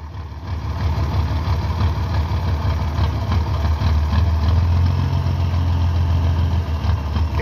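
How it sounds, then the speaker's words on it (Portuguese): Mercedes-Benz 1621 truck diesel engine idling, heard from behind where the exhaust dominates, a steady, loud low rumble throughout with no talk. "Atrás o barulho fica mais bonito, que sai só o barulho do escape"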